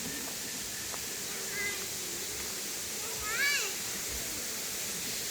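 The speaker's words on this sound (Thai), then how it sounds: "น้ำตกค่ะ" A waterfall at a temple rushes as a steady, broad hiss in the background, with a couple of faint brief chirps or calls over it.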